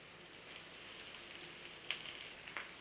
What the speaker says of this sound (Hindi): अभी मैं 2 मिनट प्याज लहसुन को फ्राई करेंगे मैं